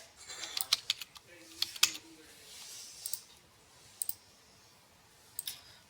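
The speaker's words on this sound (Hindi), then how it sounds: "उर्दू में टाइप करें" Sparse clicks of a computer keyboard as Urdu text is typed, scattered light keystrokes in short bursts with pauses between, quiet and close.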